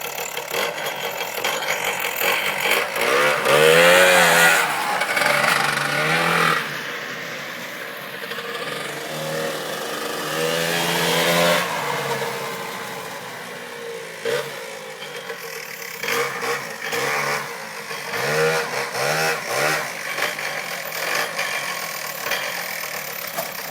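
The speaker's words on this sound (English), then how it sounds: "Let's see if the old antique will crank up." An antique Rokon motorcycle engine cranks up and revs, with loud, rising and falling bursts of engine noise through the first half, then uneven, lower idling and blipping.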